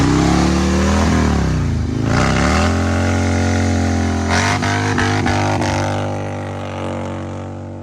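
Loud motorcycle engine revving hard as the clutch is popped, a rising and falling roar with sharp throttle blips partway through, close by, easing off toward the end.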